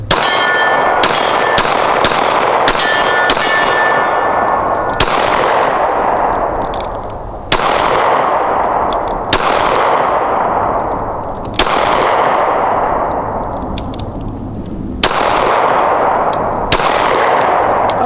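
Pistol shots from Smith & Wesson and Sig Sauer handguns, including a heavy longer-barrel model, fired at a range: a rapid burst of sharp cracks, then five loud single shots spaced a couple of seconds apart, each ringing out with a long echoing decay.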